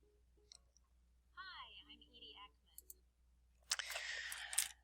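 A computer mouse clicking a few times, short, faint and widely spaced, with a brief tonal voice-like sound in between and a burst of hiss near the end.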